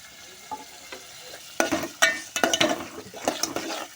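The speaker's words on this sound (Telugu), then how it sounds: "2 టమాటాలు అయితే వేసుకుంటున్నాను." Two tomatoes drop into a hot pan and get stirred, with a soft sizzle under repeated close scraping and clattering strokes that grow busier after the first quiet second.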